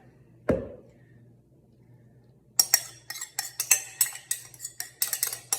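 Taco slaw being mixed in a bowl: after one sharp knock and a quiet pause, a run of quick irregular clinks and scrapes of a utensil against the bowl, close and fairly loud, with no talking.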